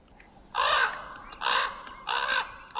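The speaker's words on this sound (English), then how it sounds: "The raven should be careful about complaining." A raven in Yellowstone gives three harsh, hoarse caws, evenly spaced and fairly close, against a quiet outdoor background.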